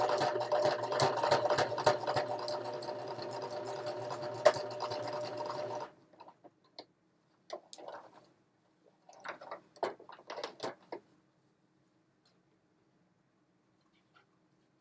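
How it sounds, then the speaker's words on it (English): A sewing machine stitches a fabric wall hanging with a steady, close mechanical whir for about six seconds, then stops, leaving scattered handling rustles and taps before silence. "I've done the machine stitching I want to do"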